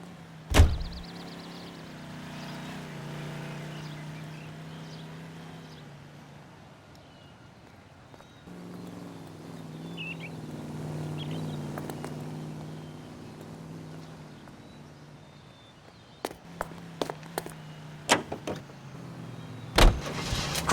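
A car in the video game L.A. Noire drives along with a steady, moderate engine hum that rises and falls, then ends with several sharp clicks and knocks.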